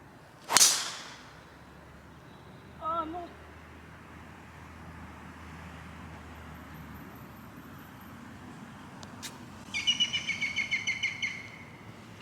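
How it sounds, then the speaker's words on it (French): On a golf course at Lacanau, a sharp club strike snaps near the start, followed by scattered bird calls and then a rapid laughing series of bird notes, all over distant traffic hum. "Il y a un oiseau qui a ricané quand j'ai tapé."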